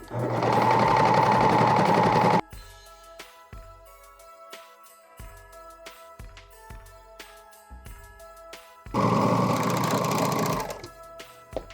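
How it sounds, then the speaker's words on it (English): A serger whirs loudly in a steady mechanical burst while overlocking frayed fabric edges of a slipper, stops for several seconds of quiet clicks and handling noise, then runs again in a second burst. "let's serge these edges, chop off any of the frayed bits, and clean them up"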